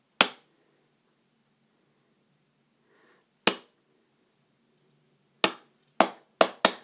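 Single sharp hand claps ring out alone in a quiet room, spaced by long pauses at first, then coming quicker in a short cluster of four near the end.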